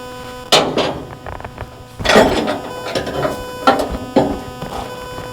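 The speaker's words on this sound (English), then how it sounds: "we just got to loosen the bolt here." A wrench works a bolt loose on a combine header: several sharp metallic ratcheting clicks and clanks in irregular bursts, close by, with no talk.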